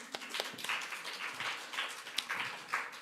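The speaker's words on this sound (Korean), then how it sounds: "우리 박수로 한번." A church congregation applauds a new bass player during a Korean Sunday service, with scattered, moderately loud clapping that comes in uneven bursts.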